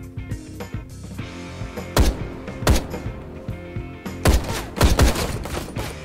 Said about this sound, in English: I'm just firing downrange